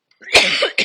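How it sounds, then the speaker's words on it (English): Someone coughs once, close and loud, in a short harsh burst. A quick second catch of breath follows, with quiet before and after. "I'm trying not to cough, but this is crazy."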